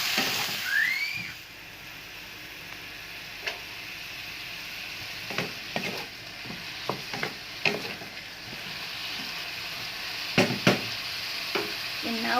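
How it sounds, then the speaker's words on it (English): Braised pineapple chicken with white or rice vinegar is stirred in a pan: a quiet, steady sizzle broken by scattered light scrapes and taps of the utensil against the pan, with a faint whistling tone early on. "Then we stir for a while."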